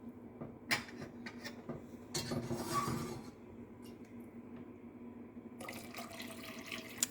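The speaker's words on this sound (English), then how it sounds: "I'm going to add a lot of liquid now. Just pour it in from the container." Liquid pours from a container into a pot of pot roast gravy, a soft, fairly quiet splashing and trickling stream that swells, eases off, then picks up again near the end.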